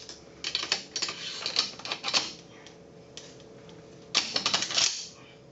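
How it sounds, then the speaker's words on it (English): The bolt of an M70 rifle is slid back in during reassembly, heard as bursts of sharp, close metallic clicks and rattles separated by quiet pauses. "We're going to go ahead and put the bolt back in."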